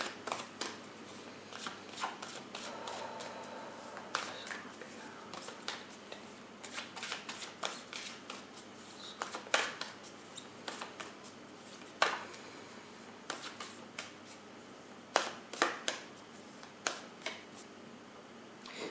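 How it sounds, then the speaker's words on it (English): Oracle cards being shuffled in quick riffles and snaps, a steady run of crisp papery flicks close up, with no talking. "shuffle the oracle so we can get a peek at your 2019 ahead"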